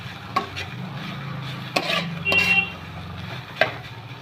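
Soaked soybeans fry in white oil in a pan, with a low sizzle beneath several sharp clinks and scrapes as a utensil stirs against the pan.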